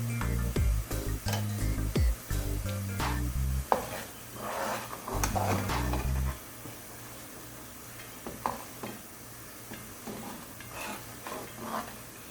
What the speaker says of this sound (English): So I have the sizzling,